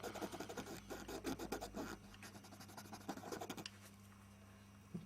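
Close, steady scratchy rubbing of small iPod parts with isopropyl alcohol on a cloth, quick irregular strokes that stop partway, leaving a faint hum.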